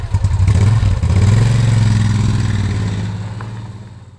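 A Moto Guzzi Griso motorcycle idles steadily nearby, its engine left running in a low, throbbing rumble with a slight rev swell early on, fading a little toward the end.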